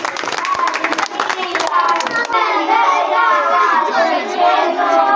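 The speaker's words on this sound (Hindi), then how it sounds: "अब आप सभी महिलाओं के लिए जोरदार तालियों से स्वागत कीजिए" Audience clapping to welcome the women performing in a children's school play about Rani Lakshmibai, a dense burst of hand claps in the opening seconds, then fading into children's voices and chatter.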